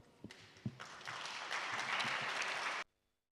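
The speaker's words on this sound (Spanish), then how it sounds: "así vamos a recibir con un fuerte aplauso" A church congregation bursts into applause during a Sunday service. Scattered claps swell quickly into full, steady applause that carries for a couple of seconds, then cuts off abruptly.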